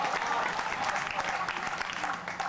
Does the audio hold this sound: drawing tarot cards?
no